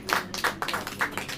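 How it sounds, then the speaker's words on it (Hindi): A church congregation clapping together during a sermon, a quick run of about five sharp, closely spaced claps, fairly near and moderately loud. "ताली हो जाओ"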